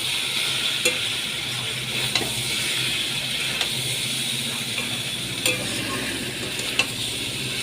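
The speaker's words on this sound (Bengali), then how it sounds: "আলু আর চিংড়ি মাছ দিয়ে আমি ভালো করে কষিয়ে নিচ্ছি" Potatoes and prawns frying together in a pan give off a steady, even sizzle with a few sharp stirring scrapes scattered through it. No one speaks.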